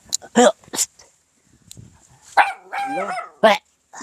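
A dog barks a few sharp times near by, with people talking over and between the barks.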